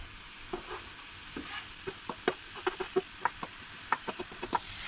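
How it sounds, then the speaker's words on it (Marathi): Grated coconut stirred and fried in a pan for a Gudi Padwa lunch, with a steady low sizzle under repeated sharp scrapes and taps of the spoon against the pan, close and fairly quiet, no talking. "आनी बरें सोय जी आसा ती बीन बरी तळसळून घेयात."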